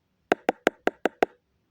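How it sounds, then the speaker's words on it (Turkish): Six knocks on a door, close and crisp, in an even series lasting about a second against a quiet room. "Kapıyı tıklatır."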